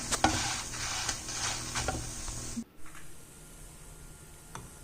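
Spices frying and being stirred in a pan for a coastal-style dry fish curry, a steady close sizzle with scraping stir strokes through the first half, then quieter frying with an occasional clink.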